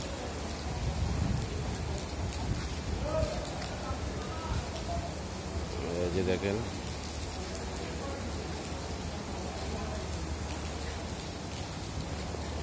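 Heavy rain pours down steadily nearby while people shelter to one side. The dense hiss continues throughout, with a faint rumble and someone talking over it briefly.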